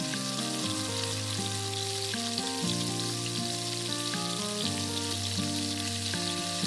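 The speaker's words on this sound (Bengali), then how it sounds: "যতক্ষণ না তেল আলাদা হয়ে যায় ততক্ষণ মশলাটি ভালোভাবে রান্না করুন।" Spice paste cooks in oil for a village-style sour hilsa curry, giving a soft, continuous sizzling hiss beneath prominent steady music.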